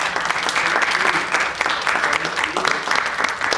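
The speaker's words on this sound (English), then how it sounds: "I want to first give all of you all a hand clap for your participation in being here" Audience at a county midterm candidate forum breaking into applause, a loud, dense burst of clapping close by, with some talk faintly mixed in.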